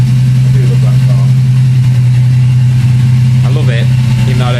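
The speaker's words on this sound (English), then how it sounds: "I thought I'd just fire her up and let her breathe and get the juices flowing through her" An old Mazda MX car engine idling steadily up close, a loud constant low rumble throughout with a faint voice briefly heard over it.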